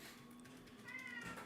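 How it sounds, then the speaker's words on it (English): A cat meows a few times in a room, faint and somewhat distant, over a low steady background hum. "Do you guys hear the cat?"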